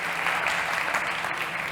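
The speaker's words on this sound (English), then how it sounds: "please give a big round of applause one more time for Alvaro Agea" Dense, steady applause from an audience at a startup pitch competition, continuous clapping throughout with no talk.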